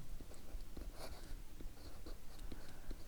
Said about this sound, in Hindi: इधर लिख देता हूँ वीना